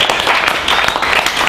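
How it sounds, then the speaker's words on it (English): Audience at a cable TV show applauding, a short burst of dense, loud clapping. "Can we give him a big round of applause?"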